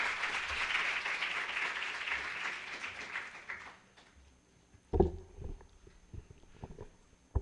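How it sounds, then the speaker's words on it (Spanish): An auditorium audience at an education lecture applauds warmly to welcome the doctor, a dense clapping that fades out after a few seconds, followed by scattered knocks and shuffling. "espero que el auditorio me acompañe recibir al doctor con un caluroso aplauso"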